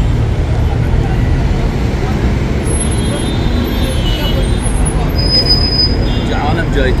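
Heavy congested traffic in a street beside a hotel in the Sisha Bin Dawood area of Mecca, a constant dense roar of buses, cars and trucks with occasional air-brake hiss, with talk heard throughout.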